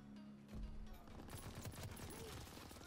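Burst of gunfire in the WWII shooter Call of Duty: WWII, a rapid, dense fusillade of shots that starts abruptly and continues steadily over a busy game soundscape, fairly loud and close.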